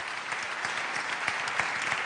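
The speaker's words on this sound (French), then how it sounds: "On peut l'applaudir à nouveau." Audience applause at a national awards ceremony in France, a dense, steady wash of many hands clapping close and loud throughout, with no voices over it.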